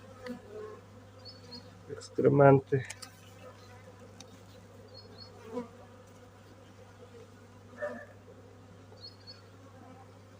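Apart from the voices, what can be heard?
honeybees buzzing at hive frame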